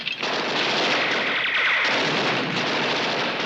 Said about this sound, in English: He'll never make it through this intense bombardment.